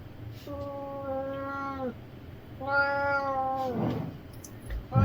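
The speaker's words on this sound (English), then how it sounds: "my cat is here, so you may hear him." An indoor house cat lets out two long, drawn-out meows near an electronics workbench, fairly close and clear over a quiet room.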